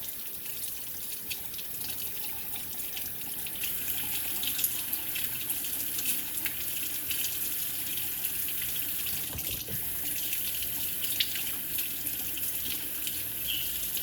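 A kitchen faucet runs in a steady stream, splashing continuously into a sink at close range for the whole stretch, with no voices.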